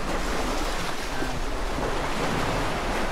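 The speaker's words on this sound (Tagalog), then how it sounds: "malaki ang tubig ngayon dito" Big ocean waves roll and crash under strong wind, a loud continuous roar of surf and gusts buffeting the microphone, with no talking.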